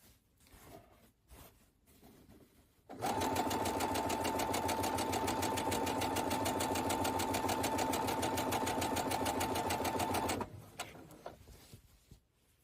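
Sewing machine running steadily while stitching a 1/4 inch seam for bias tape, a loud continuous mechanical whir with a fast rapid stitch rhythm lasting several seconds between quieter handling noises.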